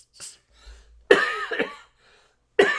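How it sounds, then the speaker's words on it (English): Several harsh, close coughs burst out in quick succession during a live fantasy tabletop gaming talk show, separated by brief quiet gaps, with no talking over them. "when I apologize for the cough"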